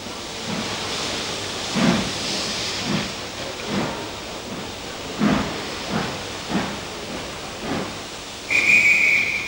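Steam locomotive N2 restarting its train, with rhythmic exhaust chuffs about every second, a steady hiss of steam throughout and a sharp whistle near the end.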